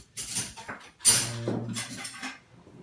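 Cutlery rattles briefly as a teaspoon is pulled out in a kitchen, two or three close metallic clinks and scrapes followed by a short clatter, with no talking.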